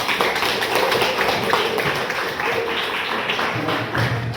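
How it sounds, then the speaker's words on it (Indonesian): Students clap together at a school opening event for a local-wisdom project, a steady broadband patter of many hands filling the room throughout, fairly close and even in loudness. "bagus sekali, tepuk tangan"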